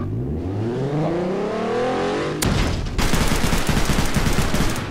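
Gunshots in a Walking Dead roleplay video game: a revving vehicle engine climbs, then dense rapid-fire shots crackle loudly and continuously over the motor.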